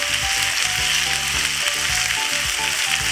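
Onion frying in very hot oil in a pot, a dense steady sizzle with rhythmic clicking stirs repeating underneath.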